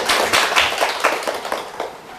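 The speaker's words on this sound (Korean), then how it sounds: "박수 한번 쳐주시고." A small group in a lecture room claps briefly, with scattered, uneven hand claps that thin out and fade over about two seconds.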